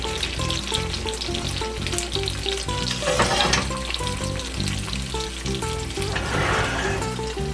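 Charro beans strained from their liquid hit hot oil in a pan for refried beans, giving a loud, steady sizzle and crackle with bursts of stirring and bubbling.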